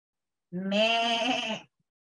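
A single goat gives one clear, wavering bleat lasting about a second, close and loud against silence.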